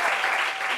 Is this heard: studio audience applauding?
yes